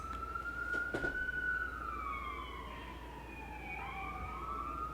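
An emergency vehicle siren wails in the distance, its pitch sweeping slowly up and down for several seconds over steady background hum, with a couple of brief knocks near the start.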